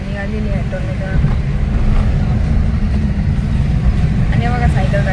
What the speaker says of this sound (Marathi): तर झालेली आहे आपली गाडी, निघालेली आहे टोल नाक्यावर.